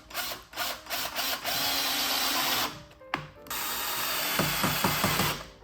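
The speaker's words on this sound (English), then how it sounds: "it's as easy as screwing in 2 screws" Electric screwdriver driving two screws to mount a solar fence light, loud close whirring in a few short pulses, then a sustained run, a brief stop, and another long buzzing drive with slight ratcheting toward the end.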